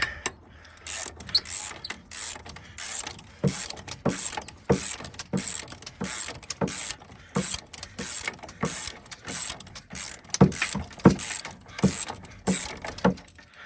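Ratchet wrench working during a Ford Super Duty CV axle replacement, close, loud bursts of rapid ratcheting clicks repeating in short strokes with brief pauses between.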